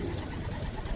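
A racing pigeon gives a low, soft coo close by in a loft, a brief murmuring sound with no talk over it.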